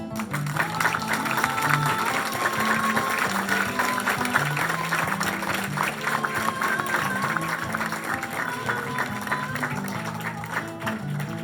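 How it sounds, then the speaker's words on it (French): Theatre audience applauding the company Baleine Carreau after the show Ma Montagne, sustained clapping over a steady bed of music tones, with some crowd voices underneath. "On peut encore applaudir la compagnie Baleine Carreau avec Ma Montagne"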